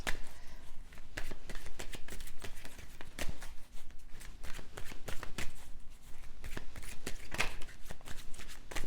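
A deck of oracle cards is shuffled by hand, giving continuous crisp riffling and slapping bursts that carry on steadily throughout, heard close and fairly loud.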